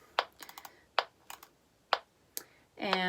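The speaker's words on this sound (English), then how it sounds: "let's turn on the metronome" A metronome set to 60 beats per minute ticks in a clarinet lesson, giving sharp, evenly spaced clicks about once per second, with a few softer extra taps between them and a clarinet tone entering at the end.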